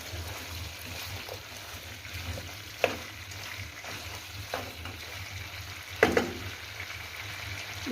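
Chicken gravy frying in a pan as a spoon stirs in salt, a low steady sizzle with a few sharp clinks of the spoon against the pan, and no voices.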